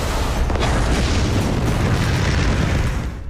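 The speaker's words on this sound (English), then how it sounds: "The huge explosions from grenades." A huge cinematic grenade blast from a Hollywood action scene, a loud broadband roaring boom that stays intense for several seconds before fading at the end.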